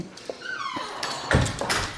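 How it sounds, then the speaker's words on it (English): A dog whimpers in a pottery class, with a rising whiny note, soft yips and a few short thuds nearby. "Oh, the dog."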